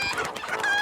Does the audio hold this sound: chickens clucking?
yes